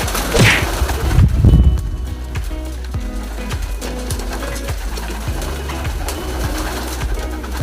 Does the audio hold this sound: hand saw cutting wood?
no